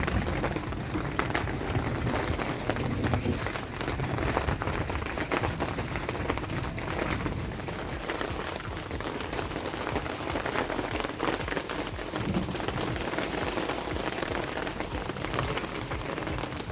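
Rain falls outside on a rainy day in a steady, dense patter of drops striking surfaces, continuous and fairly close with no voices.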